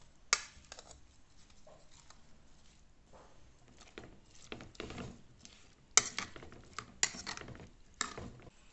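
Watermelon rind, ginger and brown sugar stirred in a pot, with scattered clacks and scrapes of the spoon against the pan at an uneven pace and a few sharper knocks.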